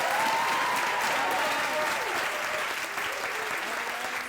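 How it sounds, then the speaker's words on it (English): An evening spoken-word poetry audience applauds warmly for the performer's mother, a dense, steady wash of clapping that holds at full strength for several seconds with faint voices mixed in. "we clap it up for my mom, please."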